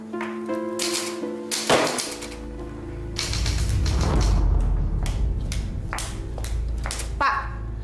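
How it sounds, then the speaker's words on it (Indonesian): Worn old manual typewriter tapping out irregular key strikes and thumps at close range, mixed with clinks and a low rumble, with voices talking between the bursts. "Mesin tik tua ini penyebabnya. Udah reot, suaranya berisik banget."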